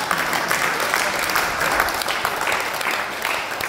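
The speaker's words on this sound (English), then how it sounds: "Clap your hands and give God praise." A church congregation claps along during a Sunday service, steady continuous applause filling the room at close range with a faint murmur of voices beneath it.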